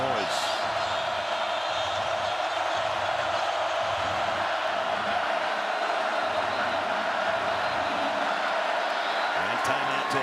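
Football stadium crowd at Penn State during a Big Ten game against Ohio State, a dense, constant roar from a large distant crowd with cheering swells, heard under a commentator's voice.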